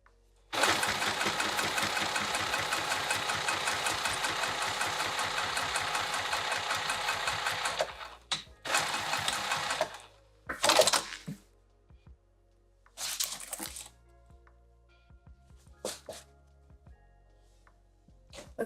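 A sewing machine stitches velveteen fabric for a boxy pouch, first in a long steady rapid hum of needle strokes, then in several shorter bursts separated by pauses and small clicks.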